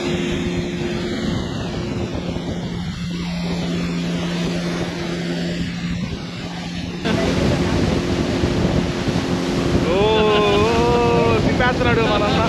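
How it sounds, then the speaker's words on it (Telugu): A speed boat races across the Banasura Sagar dam reservoir, its steady engine drone mixed with wind buffeting the microphone and rushing water, loud and continuous, with faint voices in the background. "మంచి స్పీడ్ కూడా వెళ్తుంది బోటు"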